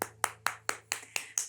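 Seven sharp hand claps in a steady, even rhythm, close and clear, with no talking over them.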